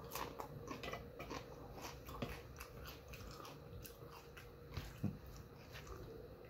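Crunchy taco shells dipped in salsa being bitten and chewed close to the mic, with repeated crisp crunches and a couple of louder bites against a steady low room hum.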